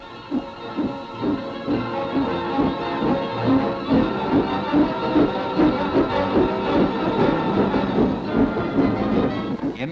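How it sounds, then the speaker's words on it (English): A steam train departing a station rumbles along with a steady rhythmic clatter of wheels, hissing and mechanical chugging building gradually as it pulls away. "the train steams slowly from the station"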